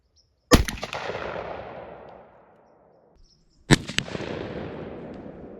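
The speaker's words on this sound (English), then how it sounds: "Rack one in there and go ahead and shoot the target." Two loud, sharp shotgun blasts from a Browning A5 16 gauge fired at a target outdoors, each with a long echoing decay, about three seconds apart.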